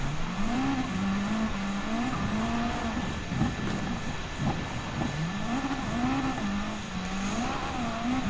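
A 1983 Audi S1 Quattro Pikes Peak Special racing car engine in Gran Turismo 7 revs up and down in repeated rising and falling sweeps, loud and close, with no talk.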